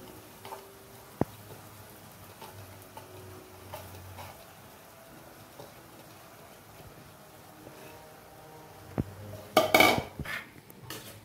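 Cooked rice tipped into a pan of Schezwan fried-rice vegetables, with quiet scraping and clinks of a metal spoon against the pan, then a louder burst of clattering utensil strikes near the end.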